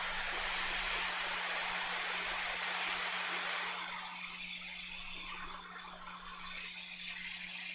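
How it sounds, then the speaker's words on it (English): A hot air tool blows steadily over a laptop circuit board to preheat it, a continuous close rushing hiss with a faint low hum beneath that eases slightly partway through. "we're just going to put some heat around the general vicinity, just so we don't thermally shock the board."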